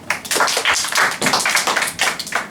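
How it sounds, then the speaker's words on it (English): Several people clap in a classroom after a maths example, a burst of applause with dense, uneven hand claps lasting a couple of seconds. "Claps"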